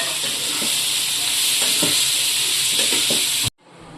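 Vegetables and tomatoes sizzle loudly in a pan over low heat for pasta, a dense steady hiss with stirring scrapes, cutting off abruptly near the end.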